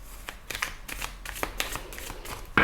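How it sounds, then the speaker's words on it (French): Tarot cards are shuffled in rapid, repeated crisp riffles close up, steady card slaps throughout the short stretch, with no talking. "je vais replacer les cartes juste après"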